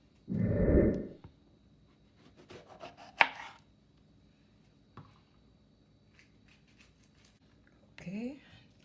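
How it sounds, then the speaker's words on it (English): A knife cuts peppers on a board in a few scattered, close taps and slices after a short burst of speech, with a quick final rasp of cutting. "I just go and cut off all of the pepper."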